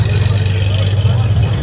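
A Gunther Works Porsche 911 pulls away, its engine giving a loud, deep, steady drone close by, with people talking over it.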